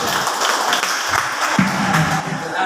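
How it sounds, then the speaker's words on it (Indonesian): Audience clapping at a school staff work-meeting briefing in Jakarta, a steady broadband patter of many hands held at an even level across the whole stretch, with a faint voice or two mixed in. "Ya tepuk tangan buat Pak Arif ya."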